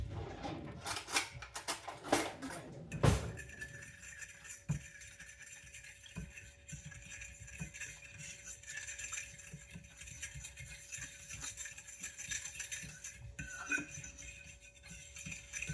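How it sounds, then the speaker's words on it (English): A single egg is stirred in a dish for a summer squash casserole, giving quick utensil clinks against the dish early on, then faint scraping in a quiet kitchen. "I'm going to stir this up"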